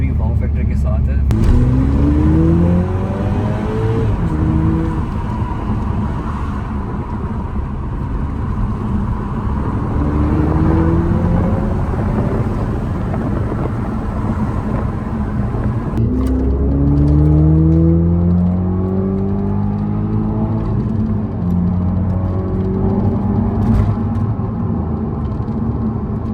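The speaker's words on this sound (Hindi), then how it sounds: "We are driving Supra KL" A red Toyota Supra driving on the road, its steady engine hum and tyre noise carrying throughout with a couple of gear changes as the pitch climbs and drops, voices talking over it.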